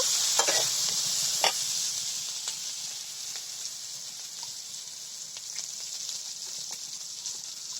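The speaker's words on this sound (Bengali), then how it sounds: "এখন তেলের মধ্যে পেঁয়াজ দেওয়া হলো।" Onions frying in hot oil in a pan on a clay stove, a steady sizzle throughout with a few sharp scraping stirs near the start, close and moderately loud, with no voices.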